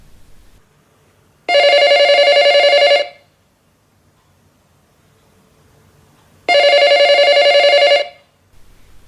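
A telephone bell rings in two long electronic bursts of about one and a half seconds each, separated by a few seconds of near-silence, loud and clear as a horror-story sound effect.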